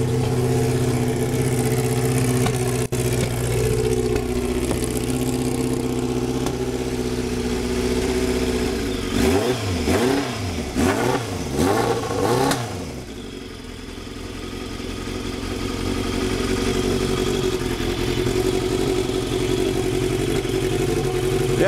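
A Kawasaki 750 motorcycle engine runs steadily and loudly throughout, with a brief burst of revving and throttle blips in the middle before settling back to a constant drone on a cold day.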